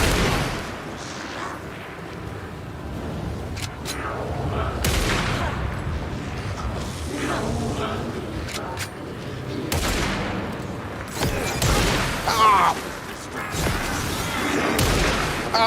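Enemies open fire in Alan Wake 2, with repeated bursts of gunshots and booming blasts spread across the whole stretch, loud and close, mixed with game effects and a player talking over the action.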